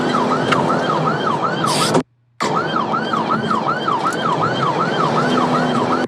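A police car siren wails loudly during a Dallas police chase along a tollway, cycling in a steady rising-and-falling pattern with road noise underneath. It cuts out abruptly for a moment, then returns at full strength.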